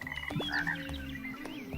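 Frog croaks from a video game, a few bright croaking calls over a steady layered game soundtrack, close and clear with no talking.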